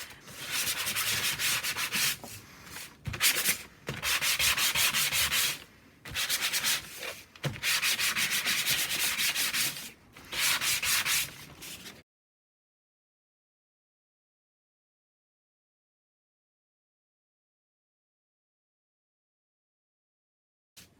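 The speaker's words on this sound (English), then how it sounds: "I've got a sanding block and I'm just going to sand in all directions" A sanding block with sandpaper scrubs back and forth over a painted paper file folder in several long bursts, rough and close, with brief pauses between strokes, then silence.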